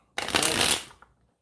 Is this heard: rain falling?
no